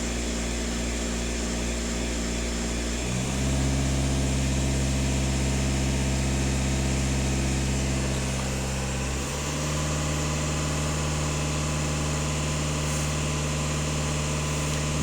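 Skoda 2.0 TDI diesel engine revving on its own during a DPF regeneration and cleaning procedure, heard close and loud as a steady low drone that steps up in pitch around three seconds in and drops back near nine seconds, with no talk.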